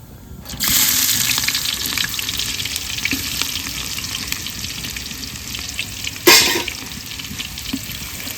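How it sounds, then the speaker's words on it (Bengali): Sliced onions hit hot oil with whole garam masala, cloves, cinnamon and dried red chillies, bursting into a loud sizzle that settles into a steady crackle with a brief spattering flare later. "পেঁয়াজটা একটু ভাজা ভাজা করবো।"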